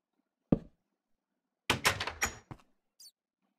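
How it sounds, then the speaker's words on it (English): Wooden doors placed in the video game Minecraft: a sharp thunk, a cluster of clacking door sounds a second later, another thunk and a faint tick, separated by silence. "now we can put the doors back"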